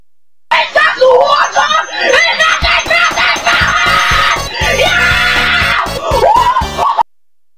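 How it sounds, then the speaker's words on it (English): A child screams loudly and continuously at close range, harsh, strained shrieks rising and falling for several seconds, ending abruptly. "why are you screaming like that?"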